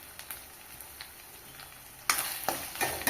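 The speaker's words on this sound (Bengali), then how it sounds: "আবারও কষিয়ে নেব টমেটোর সাথে মশলা" Tomato and spices for a chicken curry frying in a pan: a quiet, steady sizzle at first, turning louder and broader midway as the mixture is stirred, with scraping bursts.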